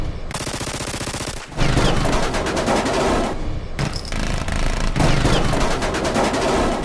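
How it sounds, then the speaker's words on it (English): Rapid minigun fire used in place of machine pistol sound effects: dense, loud bursts of fast automatic shots, a short burst followed by a longer sustained stream with brief gaps. "He swapped out the machine pistol sound effects for the sound effects of a minigun."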